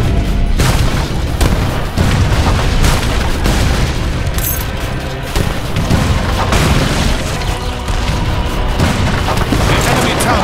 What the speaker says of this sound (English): Use your mortars to destroy the enemy town center